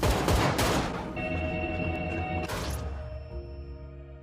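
Loud, dense gunfire in an action film shootout inside a prison, rapid bursts that fade into ringing tones and then a second crashing impact, layered over a dramatic musical score.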